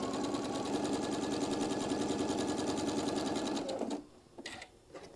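A sewing machine runs a rapid, even stitching rhythm along a quarter-inch seam on a quilted table runner, loud and close, then stops abruptly, leaving a few soft handling noises.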